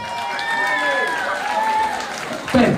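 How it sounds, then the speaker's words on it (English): Audience applause at a charity boxing championship trophy presentation for a boxing club, steady clapping through the clip with voices and whistle-like tones over it, then a louder burst near the end. "One more time, a big round of applause."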